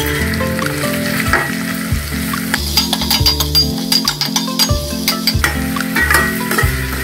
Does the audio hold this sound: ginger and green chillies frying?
yes